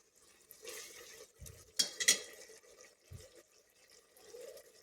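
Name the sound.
stirring sautéing onions and tomatoes in a pan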